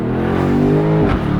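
BMW M850i convertible accelerating hard up a highway exit ramp: a loud, close engine note climbing steadily in pitch under full throttle, then a quick shift with a brief dip in the roar.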